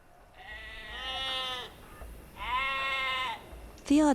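Two long, wavering sheep bleats from Age of Empires 2, each about a second long, with a gap between them and a sharp higher cry at the end, over a quiet game background.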